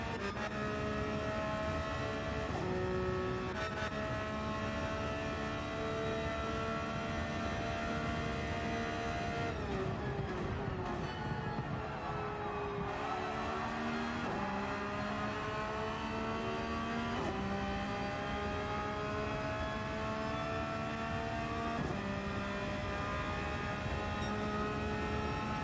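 Race cars in a Fiesta-based FTWRC rally/racing round accelerate down a straight in close slipstream, a loud continuous engine drone with rising and shifting pitch sweeps throughout, no speech.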